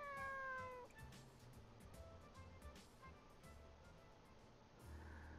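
In Nights of Azure, a cat gives one clear, drawn-out meow near the start. Quieter rustling game ambience follows for the rest of the moment.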